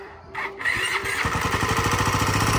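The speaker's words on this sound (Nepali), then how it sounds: "अहिले फेरि अब एकछिन बाइक स्टार्ट गर्ने ट्राई गर्छु" A motorcycle engine, started on a roadside by a jungle, cranks briefly, then catches and settles into a steady, close, throbbing idle with no voices.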